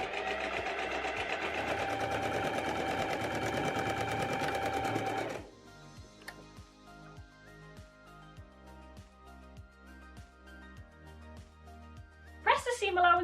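Sewing machine stitching fabric seams for Luna pants, a fast steady whirring run for about five seconds, then slow individual stitches ticking at an even pace before a short burst at the end.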